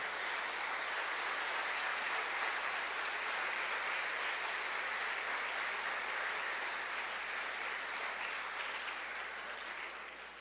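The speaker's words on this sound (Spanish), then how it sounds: "Un aplauso, por favor" A church gathering gives sustained applause to welcome first-time attendees, a thick, uniform patter of many hands lasting about ten seconds before it starts to fade.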